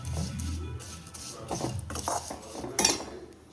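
Beaten rice flakes and jaggery stirred together in a pan, with scraping and clinking of a spoon against metal in irregular bursts, close and moderately loud, one sharper clink near the end.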